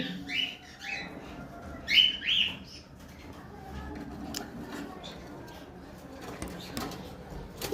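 A few short, bright calls from a pair of albino cockatiels ring out close by near the start, then fade to quiet rustling and low background noise.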